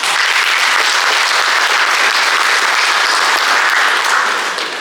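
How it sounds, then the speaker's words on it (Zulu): At a birthday and end-of-year function, a crowd claps loudly and densely without a break, fading slightly at the close. "ngicela ukuthi nje ningiphi ihlombe"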